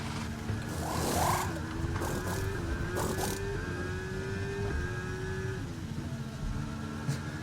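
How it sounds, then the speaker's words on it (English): A low, rough Ferrari Formula 1 car engine in the F1 23 video game idles steadily with a slowly shifting drone, punctuated by a few short bursts of noise. "On idle, the Ferrari engine sounds like a tractor."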